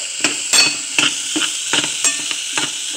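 Chicken browning in a little hot oil in a pan, a light continuous sizzle broken by several close, crisp scrapes and turns of a utensil at irregular intervals, with no voices.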